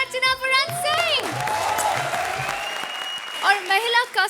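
Studio audience at a TV comedy show applauds in a steady wash, with music and a voice over it at the start and talk resuming at the end.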